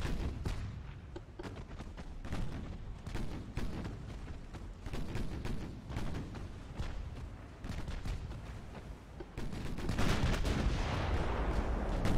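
Naval ship guns fire in Ultimate Admiral: Dreadnoughts as a dense, continuous barrage of booming shots and rumbling impacts. The volley swells heavier toward the end.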